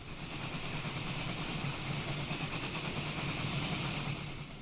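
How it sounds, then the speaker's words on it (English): Busy trains running on a multi-track section in the Transport Fever 2 game, a steady dense rumble of wheels and engines with a faint hiss, continuous and even throughout, with no talking. "I love seeing lots of trains, lots of busy trains"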